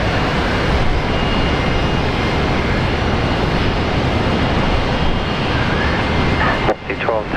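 An airliner taking off at Brisbane Airport gives a loud, sustained roar of jet engines that fills most of the clip and cuts off sharply near the end, where a faint voice comes over the radio.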